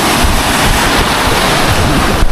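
Loud, roaring ocean surf at a beach in Real, Quezon, with heavy waves crashing continuously nearby, mixed with gusty wind buffeting the microphone; no voices.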